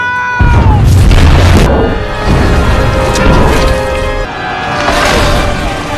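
A grenade goes off in a film action scene, a loud close boom with a heavy low rumble that follows a brief tonal sweep, then rolling debris and crash sounds with layered music or effects.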